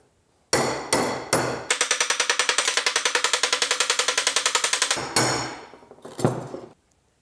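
Hammer strikes on a piece of aluminum being bent for a tripod monitor bracket: a few heavy separate blows, then a fast steady run of ringing taps for several seconds, then more spaced, loud hits, with no talking.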